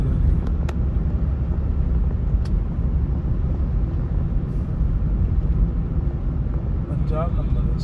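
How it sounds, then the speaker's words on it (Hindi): Indian government car driving along an empty road in Jaipur during lockdown, a steady close rumble of engine and tires from a moving vehicle, with a faint squeak near the end. "भारत सरकार की गाड़ी जा रही है।"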